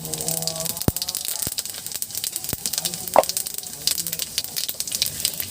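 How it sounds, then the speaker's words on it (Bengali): Panch phoron spices sizzle in hot oil left over from frying ash gourd, a steady close crackle with a few sharp pops and a brief clink, no voices. "চাল কুমড়ো ভাজার পর যে তেলটা রয়েছে, এই তেলের মধ্যে দিয়ে দিচ্ছি 5 ফোড়ন"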